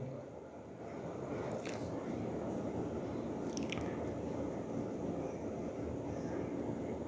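A spoon stirs mash dal lentils in water inside a cooking pot, producing a steady, dense, wet squishing and churning that continues throughout.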